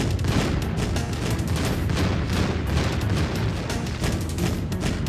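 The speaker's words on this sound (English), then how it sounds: "he's going to sling bombs all over the place" Dense, continuous barrage of booming blasts and crackling detonations in the game Shining Tears as an enemy slings bombs everywhere, loud and unbroken throughout.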